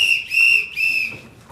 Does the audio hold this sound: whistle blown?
yes